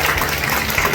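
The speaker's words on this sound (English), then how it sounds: "let's give Sophie a nice big round of applause." Audience applauding after a glassblowing demonstration, a brief dense wash of clapping at steady loudness.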